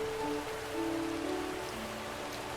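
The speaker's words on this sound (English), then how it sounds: "And it's been raining the entire time." Rain falls steadily in the Disney Dreamlight Valley video game as a continuous, even patter and hiss, with faint sustained tones underneath and no voices.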